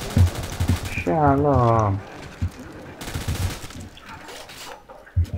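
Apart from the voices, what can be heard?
M249 machine gun fire in video game Call of Duty: World at War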